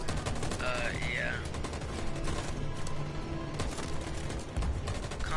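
Dense gunfire in the video game Detroit: Become Human, rapid overlapping shots and bursts rattling continuously throughout, with a voice talking over the battle.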